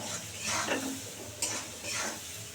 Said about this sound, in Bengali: এবার এটাকে সুন্দর করে আলু পেঁয়াজটাকে সুন্দর করে ভাজবো, একদম লাল করে ভাজতে হবে